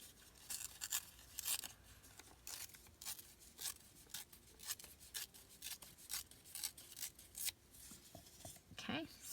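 Paper ripped by hand for handmade craft embellishments, a run of short dry tearing and rasping strokes in quick irregular bursts, close up and fairly quiet, with no talking.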